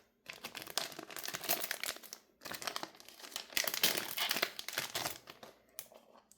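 Crinkling foil wrapper of a Grand Archive PTM trading card booster pack being torn open, with two close bursts of crackling and tearing separated by a brief pause.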